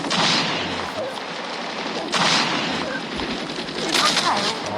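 Gunfire bursts in the Call of Duty Mobile video game, with dense rapid automatic fire and repeated louder volleys around two and four seconds, continuous and busy throughout.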